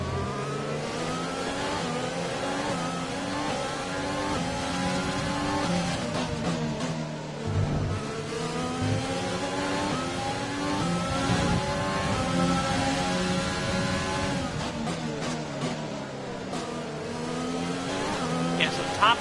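Formula 1 race cars at the Canadian track in the game F1 2020, high engines revving and shifting through gears continuously in a long, rising and falling whine, with commentary talk running over them.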